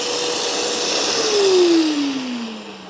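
A Bissell portable carpet cleaner sucks water through its hose as it is cleaned, a steady whining suction roar with a tone that slowly slides downward, close and moderately loud, with no talk.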